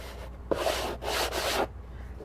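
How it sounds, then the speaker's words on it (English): Two back-to-back strokes of sanding across a polymer clay mosaic, a steady abrasive rubbing close by that lasts about a second and then stops, with a faint background hiss in between. "always sand with the grain"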